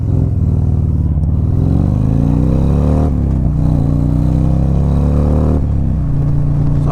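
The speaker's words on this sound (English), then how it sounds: "So I just wanted you to hear those Chromeworks pipes." A 2020 Harley-Davidson CVO Street Glide with Chromeworks exhaust pipes rumbles loud and close, a deep, throaty motorcycle engine with rising and falling revs through several gear changes while riding.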